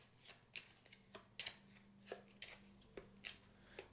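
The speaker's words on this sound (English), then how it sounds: "I can't really shuffle cards that well" Playing cards are shuffled at close range in a series of quick riffling bursts spread irregularly over several seconds, with soft handling noises in the pauses between them.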